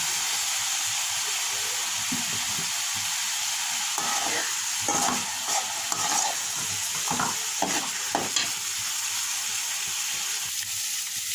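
Fried rice with beaten egg is stirred in a hot pan, a continuous frying sizzle broken by bursts of scraping and tossing in the middle, with no talking.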